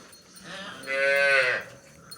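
A single cow moos inside a cowshed at night, one drawn-out call rising in the middle of the clip over a quiet background, fairly close and clear.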